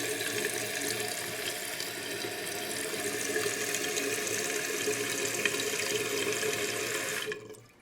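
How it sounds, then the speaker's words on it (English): A toilet tank refills through a newly installed fill valve, a steady close rush of running water that holds level for several seconds and then stops abruptly as the valve shuts off. "See, it's filling up just fine now."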